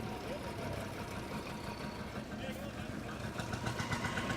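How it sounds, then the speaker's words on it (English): An old Field Marshall tractor engine idles with a low, uneven chugging rumble, heard from a short distance while people talk over it. "Very old tractor"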